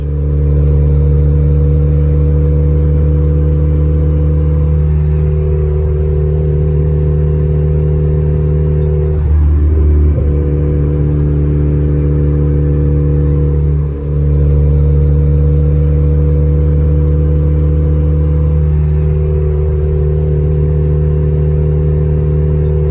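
An Acura CL's H22A engine idles right after a motor mount install, a loud, close, steady hum with a constant low drone and only slight wavering throughout, with no one speaking.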